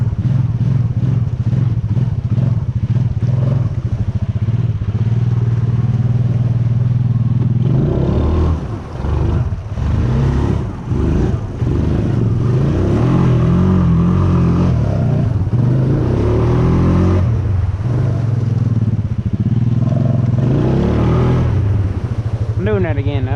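An off-road vehicle's engine revs hard as it pops wheelies through creek water, a loud continuous drone with surging throttle bursts and splashing clatter, with someone talking over it.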